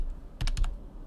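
A few quick keystrokes tap on a computer keyboard while a command is entered, making a short cluster of close, crisp clicks in a quiet room.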